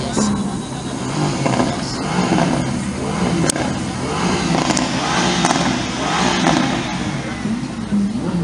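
Lamborghini supercar engine passing in a supercar parade, a steady loud engine note with mild revving throughout, up close, with crowd noise and a commentator talking over it.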